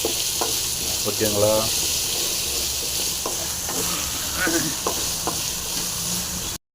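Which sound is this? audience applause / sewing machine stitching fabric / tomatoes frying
tomatoes frying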